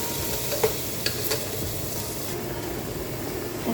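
Onions frying in oil in a pan for a rice kebsa dish, giving a steady close sizzle with a few faint stirring clicks and scrapes throughout, no voices.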